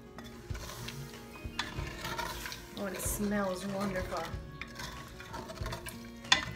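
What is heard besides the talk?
spoon scraping pan while deglazing stew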